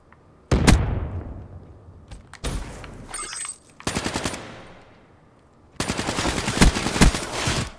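Gunfire from the Call of Duty Black Ops 3 multiplayer game on Xbox One comes in several separate loud bursts of rapid automatic shots, each burst followed by a short gap.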